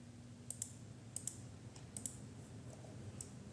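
A computer mouse clicks faintly in quick pairs, about four sets spread out, while CAM work is set up for a Tormach 4th-axis trunnion job, with a low steady hum underneath.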